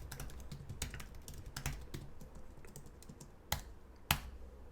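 Password being typed on a computer keyboard: quiet, irregular key clicks close by, ending in two sharper, louder keystrokes.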